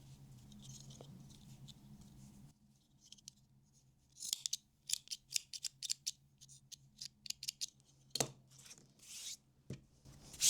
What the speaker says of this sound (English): you cut the loops like this and even it out